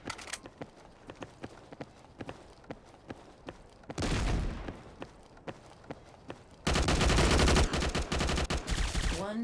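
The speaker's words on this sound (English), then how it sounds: "Under heavy fire!" Gunfire in a mobile first-person shooter, sharp single shots ticking off in an uneven rhythm, then two stretches of loud, dense automatic fire, the second swelling into a continuous roar.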